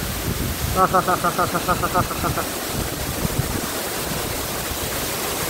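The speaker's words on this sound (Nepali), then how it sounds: "यहाँको झरना चाहिँ यस्तो छ" A tall waterfall near Gairi village roars steadily as a broad, continuous rush of falling water, with wind buffeting in the foreground and a short run of faint rhythmic chirps early on.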